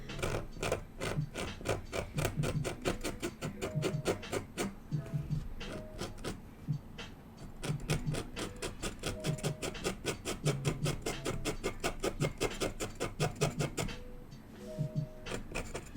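Pencil or pen scraping across paper while drawing, a steady run of quick rhythmic strokes, close and fairly loud, repeating in bursts with brief pauses.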